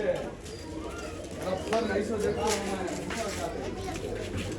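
Pigeons for sale at a bird market in Bangalore coo softly under steady nearby conversation, with the birds' low calls blending into the crowd chatter.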